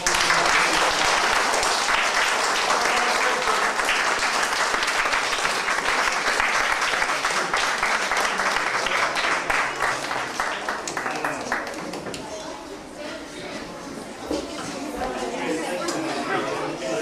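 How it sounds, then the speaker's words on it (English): An audience at the DuPont Maydown Visitors Centre claps in loud, sustained applause mixed with crowd chatter, easing off in the last few seconds. "could you give him a nice big round of applause?"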